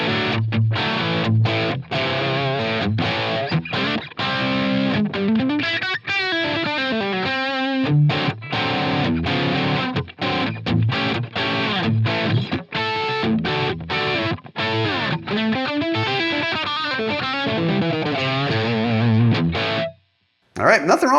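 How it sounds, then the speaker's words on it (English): Distorted electric guitar from a Yamaha SA2200 played through a Line 6 HX Stomp on the Placater Dirty amp model rings out in loud, saturated chords and riffs, close and continuous, ending with a brief cut near the end. "Okay, so here we are set up with the Yamaha SA2200 guitar"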